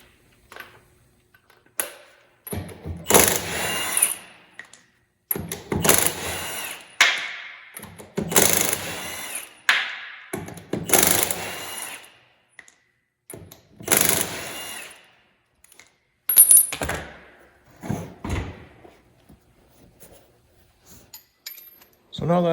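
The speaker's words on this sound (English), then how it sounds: "I'm going to take this tire off to give you a better view of how this toe adjustment system works" Metallic clanks and rattles of tools and hardware as a tire comes off a Polaris RZR Pro R side-by-side, in irregular bursts separated by quiet gaps, close to the microphone.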